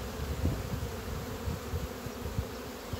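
Honeybees buzz around a hive as they bring in pollen, a steady, close, low drone with small flickers of individual wingbeats and no talking.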